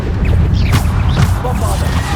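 Bombarda blasting spell in Hogwarts Legacy bursts in loud, sharp explosive impacts, two or three close crashing blasts layered over continuous game combat noise.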